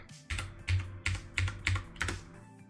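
A password is typed on a ZX Spectrum keyboard, six or seven crisp, close key presses in a quick, slightly uneven rhythm, each with a soft thud, with no talk.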